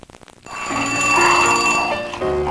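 A telephone rings in a mid-1990s TV commercial, starting with a quick rattling trill that swells into a sustained, loud, bright ringing tone that carries on to the end, with no talking over it.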